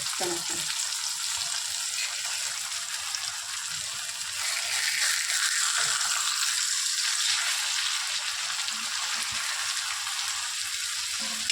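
Bombil (Bombay duck fish) frying in a pan over low gas, a continuous close sizzle with scattered spatters and soft turning sounds as the pieces are flipped, no talking.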